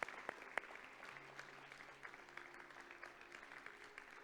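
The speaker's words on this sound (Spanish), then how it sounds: "Le damos un aplauso a la palabra de Dios" Soft, continuous clapping from a congregation at a Spanish-language church service, fairly distant and even, with a few sharp knocks near the start and a faint tone in the background.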